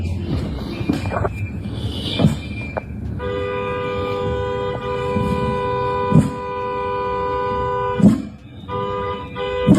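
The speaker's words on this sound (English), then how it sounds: "That's that noise you hear. The whistles and all that stuff." Steady, piercing whistle tones blown by protesters sustain over a noisy outdoor crowd, with sharp firework bangs and shouts breaking through now and then.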